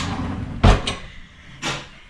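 A kitchen drawer pushed shut with a sharp, close knock, followed by a lighter rattle and a second softer thud a second later, with no talking.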